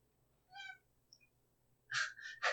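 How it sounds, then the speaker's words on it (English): A male house cat meows insistently indoors: one drawn-out, tonal meow, then a short faint chirp, then a louder pair of close, strident meows at the end, with no talk over them. "He's meowing like crazy."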